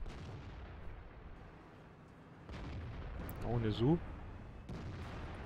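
A heavy tank in World of Tanks, the IS-5 (Objekt 730), fires cannon shots heard as several booming reports, partly under someone talking in German.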